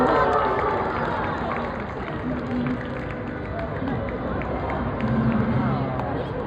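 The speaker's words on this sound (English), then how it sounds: "I think he deserves a much louder round of applause." Audience applause at a sea lion show, a loud, dense rush of clapping mixed with crowd noise and some cheering that carries on throughout.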